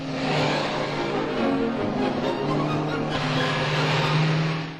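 A standard road-model rally car engine revs steadily on a road during a hill climb event, a loud, continuous droning roar that holds for several seconds before easing slightly.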